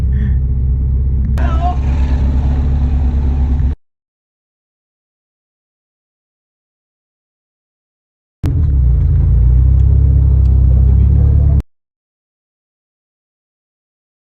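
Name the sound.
road traffic, cars and engines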